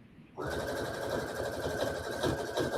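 A sewing machine starts up and stitches the top and bottom hem of a fleece neck cover, a close, steady, fast mechanical whir running without pause.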